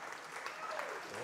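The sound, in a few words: audience applause for sponsors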